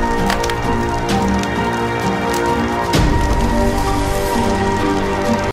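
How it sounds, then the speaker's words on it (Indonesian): Rain falling, a dense crackling patter that is close and fairly loud, steady across the whole stretch, with a heavier burst midway and no talking. "Hujan, guys."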